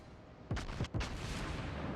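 Warship gun volley in World of Warships, a naval battle game: three sharp booming salvos in quick succession around the middle, over a steady low rumble of background noise, no talk.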